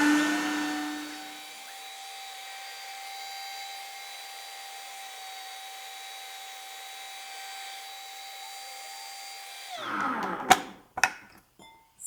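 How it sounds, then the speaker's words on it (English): A food processor blending raw white chocolate ingredients with vanilla extract, a steady motor whir that runs for about ten seconds, then stops, followed by a few close knocks and scraping sounds. "I just want to mix it up because sometimes when you're food processing, the ingredients tend to stick to the sides."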